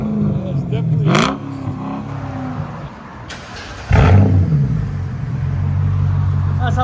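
A 2000s BMW V8 engine revs twice at close range: a rising sweep near the start, then a louder, sustained burst that holds a steady roar over a low background rumble.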